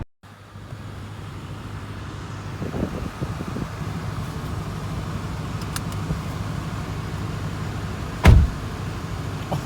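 A 2005 Toyota Crown Majesta V8 with right-hand drive and air ride hums steadily from inside the cabin as it drives, a low engine drone with road and wind noise and a brief bump near the end.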